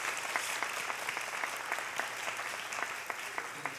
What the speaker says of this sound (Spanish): Démosle un aplauso a los muchachos, las muchachas.